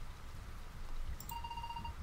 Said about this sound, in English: Gastrock is loving this rain.